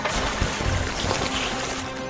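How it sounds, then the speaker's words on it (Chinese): A cartoon super fire truck's hose sprays water to wash off slime, heard as a continuous loud hissing gush of water that holds steady from start to finish with no voices over it. "用水管的水把粘液洗掉"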